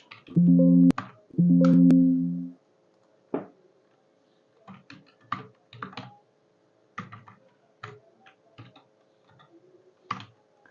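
Keys being typed into a spreadsheet on a computer keyboard come as scattered clicks in short bursts, close and fairly quiet. Two loud, buzzing harmonic tones come first, and no one speaks.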